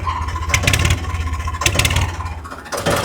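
A Ford 3600 tractor engine runs steadily and loud, with a low rumble and a couple of brief revving surges, no talking.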